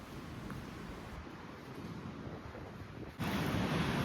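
Sea waves and wind on a beach at Zatoka, a steady rushing roar of surf and gusts that swells louder near the end, with no talk.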